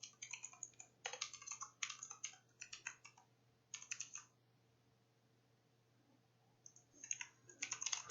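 Rapid bursts of key clicks from a computer keyboard as code is typed out, close and clear, broken by short pauses and resuming at the end, with a faint steady hum beneath.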